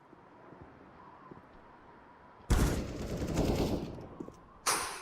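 Counter-Strike: Global Offensive gunfire cuts into a quiet background: a sustained, loud automatic burst lasting about two seconds, then a second sharp burst begins near the end.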